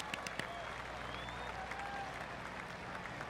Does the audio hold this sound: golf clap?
yes